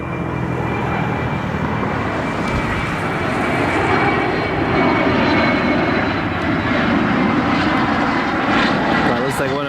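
Challenger business jet passing overhead near Cleveland, a steady loud broadband roar of jet engines holding through the whole stretch with no pause.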